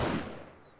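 A single gunshot blast in the survival game 7 Days to Die, fired at a bear, with a loud opening crack that rings and fades over under a second.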